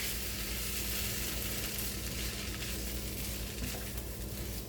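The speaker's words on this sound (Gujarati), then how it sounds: "આ રીતે આપણે રોટલી વઘારીએ છીએ" Roti pieces sautéed in a pan give a steady, close frying hiss with faint stirring scrapes, continuous and unbroken, with no talking.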